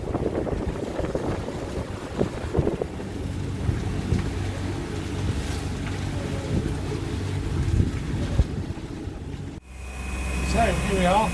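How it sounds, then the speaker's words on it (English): A sailing catamaran motors into Linton Bay, Panama, under a thunderstorm, with a steady engine drone, wind buffeting the microphone and a voice talking over it, before the sound shifts to a quieter interior hum. "We're motoring into Linton Bay underneath our own personal thunderstorm"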